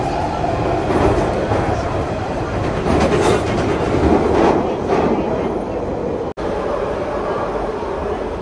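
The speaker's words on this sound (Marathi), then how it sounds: "आता आम्ही चाललो आहोत ट्यूबने, अंडरग्राउंड ट्यूबने" A London Underground tube train running underground, a steady loud rumble and rattle of wheels and carriage throughout, with a brief dropout near the end and faint chatter of passengers and family in the crowded car.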